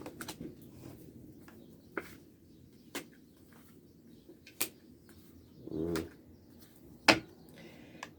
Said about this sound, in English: Y'all hear them birds chattering in the background?